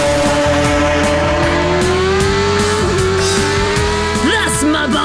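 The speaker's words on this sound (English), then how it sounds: "they set off with roaring engines and whizzing tyres" Racing cars on a racetrack roar off the start, with a loud, continuous engine whine that climbs slowly in pitch, plus tyre noise and a brief squeal near the end.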